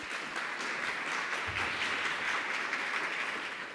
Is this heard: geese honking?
no